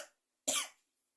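A single sharp cough from a teacher in the middle of a Hindi grammar lesson, loud and close, following a moment of silence after trailing speech.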